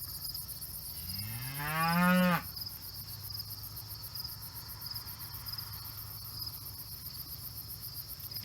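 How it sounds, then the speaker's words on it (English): A bull on a farm lets out a single long, rising moo that swells loudly for about a second and a half, then stops, leaving steady insect and cricket chirring in the background. "There's that bull."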